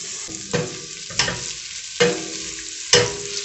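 Onions frying in a pan: a bright steady sizzle interrupted by four evenly spaced stirring scrapes, close and fairly loud, no voices.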